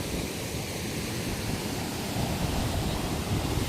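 Broadband rushing of flowing water along the trail to Kalu waterfall in Maharashtra, a steady, fairly loud wash with no break, running alone without voices.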